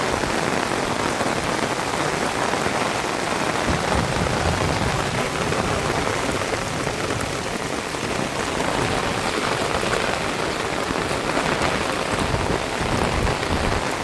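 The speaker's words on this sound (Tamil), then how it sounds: "இப்படி பெய்யுதாண்டு." Heavy rain pours steadily during floods in Sri Lanka, a dense, unbroken roar of drops hitting surfaces, loud and close throughout with no pauses and no voices.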